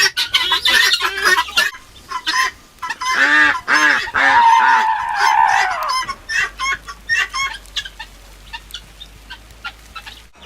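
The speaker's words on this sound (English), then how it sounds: "Guinea hens are always loud." Loud, harsh, repetitive squawking calls from guinea hens, rapid honking bursts with a few pauses between rounds, close by.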